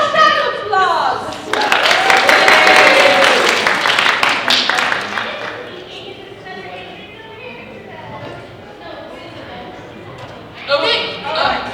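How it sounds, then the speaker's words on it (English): An audience at a steampunk convention's tea dueling event breaks into a burst of applause and cheering that swells for a few seconds and then fades, with people talking around it. "A round of applause."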